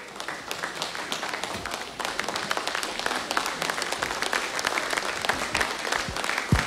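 A church congregation breaks into sustained, loud applause, the dense clapping of many hands continuing throughout with scattered voices underneath.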